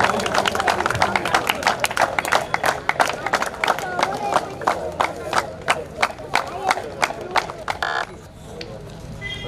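An audience at a cricket tournament ceremony, the B.Boys Trophy 2019, claps in a steady, rhythmic beat that carries loudly for several seconds, then thins out and fades near the end. A murmur of crowd noise runs underneath.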